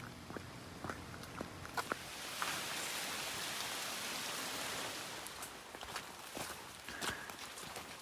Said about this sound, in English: Starting to rain in earnest now.